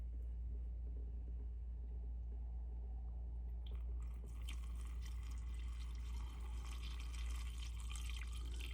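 Gasoline contaminated with water is poured from a Troy Bilt TB110 lawn mower, a faint steady trickle that grows into a louder splashing pour partway through, over a constant low rumble, with no talking.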